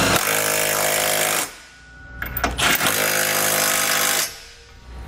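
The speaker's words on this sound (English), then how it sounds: "Then you're going to want to come back with a 19 millimeter socket and snug up all your hardware." Impact wrench or powered socket driver with a 19 millimeter socket snugging trailer hitch hardware on a 2019 Nissan Rogue, two loud sustained rattling bursts close by, separated by a brief pause with clanks of metal.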